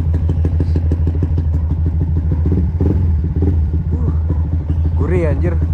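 A bored-up 180cc Yamaha MX King motorcycle engine idles steadily with a low throbbing rumble close by, while a person talks over it.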